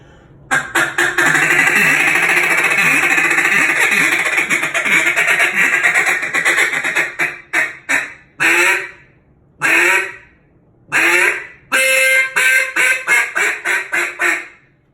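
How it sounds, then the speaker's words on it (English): A duck call blows the closing of a contest calling routine: a long raspy run of quacks, then three separate short quacks and a final drawn-out greeting call, loud and close. "That is followed by 3 quacks and a final greet to close the routine."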